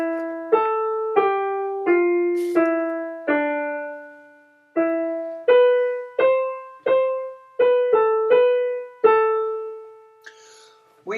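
An organ plays a single-line isometric chorale melody of mostly even quarter notes and a few longer held tones, each note clear and separate in a steady, regular pulse, heard alone without speech.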